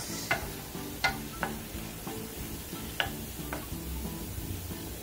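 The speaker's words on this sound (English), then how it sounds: "so I got my green peppers and onions sauteing here" Green peppers and onions sautéing in a pan, heard as a low steady sizzle under several sharp utensil clicks and scrapes of stirring.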